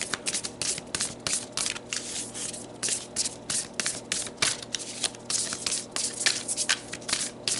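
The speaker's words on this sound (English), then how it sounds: "let's pull some more cards and dig a bit deeper" Tarot cards being shuffled for a reading, a steady run of quick papery riffles and soft rubbing strokes, close and fairly quiet, with no talk over them.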